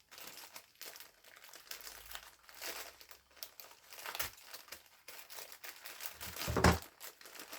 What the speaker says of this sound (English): Let me just cut the packet.